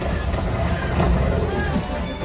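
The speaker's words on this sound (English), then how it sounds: "Oh, there is the train." The Disneyland train rolls past close by with a steady rumble and some hissing, while park voices murmur in the background.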